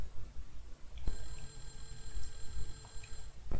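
An old-style telephone rings in the Clock Tower retro horror video game, a sustained metallic bell tone starting abruptly and continuing steadily over a low background rumble, with no voices.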